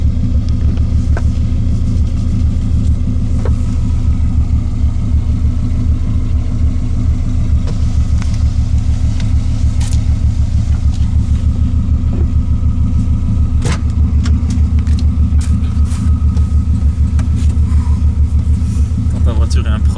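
Project car with a converted ignition coil, being driven for the first time after a long break, gives off a deep continuous engine rumble with pulsing low-end throb, loud and close throughout, while people talk over it.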